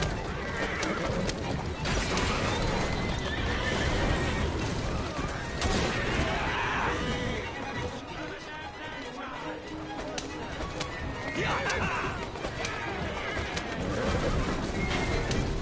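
Horses neigh and hooves clatter as horse-drawn carriages race in a video game chase, with crashes and impacts mixed into a busy, loud game soundscape.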